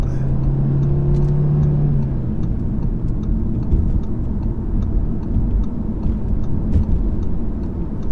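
An Audi RS3 engine hums and growls steadily while driving, loud and close, with a low droning note throughout.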